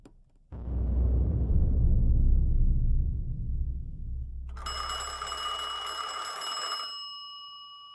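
An early-1900s telephone bell rings at the Dayton telegraph office era: a bright, sustained metallic ringing lasts about two and a half seconds, entering over a dull rumbling background and then stopping abruptly.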